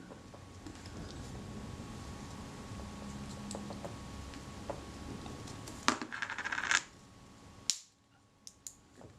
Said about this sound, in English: You can hear the ratchet of the pawl as I move that.